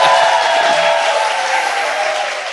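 Dense, steady applause from a studio audience at a Korean political talk show fills the room loudly and evenly, easing off slightly toward the end with no one speaking over it.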